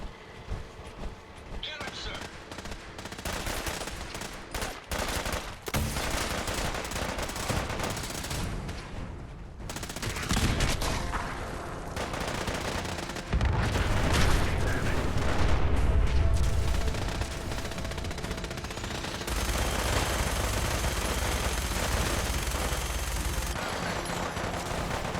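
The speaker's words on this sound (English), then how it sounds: "launches missiles that do lingering fire damage like Molotovs after they explode" Incendiary Launcher missiles in Fallout 4 burst repeatedly in a chaotic firefight, heavy booms and crackling blasts stacking over each other with sustained rumbling, loud and close throughout.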